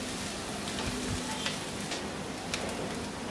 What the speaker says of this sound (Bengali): ওগুলা দিয়ে আমি একটু ভেজে নিব।